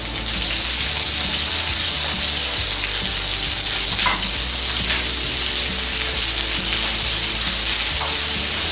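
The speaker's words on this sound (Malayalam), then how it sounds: "നമുക്കിനി ഇതിലോട്ട് ഉള്ളി വഴറ്റുക" Onions sautéing in hot oil in a kadai with cloves, cardamom and cinnamon already in the pan, a loud, dense and continuous sizzle that holds steady with no talking over it.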